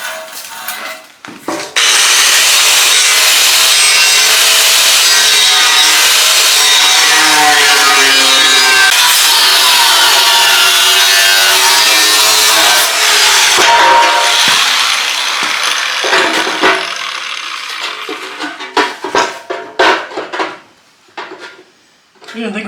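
A scrap propane tank is cut with a loud, continuous grinding and rasping metal screech held close for about fifteen seconds, then broken into intermittent clanks and scrapes.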